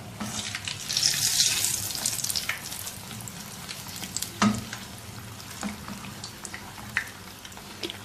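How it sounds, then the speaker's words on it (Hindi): Samosas frying in hot oil in a wok, giving a steady bubbling sizzle with occasional sharp spits and utensil knocks, fairly close and with no talk. "ये बड़ी जल्दी से फ्राई हो जाते हैं"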